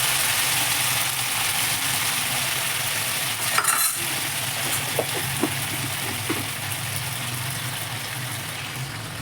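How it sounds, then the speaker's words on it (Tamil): Mango pieces for pickle fry in oil with a continuous close sizzle, a few utensil clinks and stirring scrapes, and a low steady hum underneath. "மாங்காய் வந்து கொஞ்சம் நல்லா எண்ணெயிலே வேகட்டுங்க"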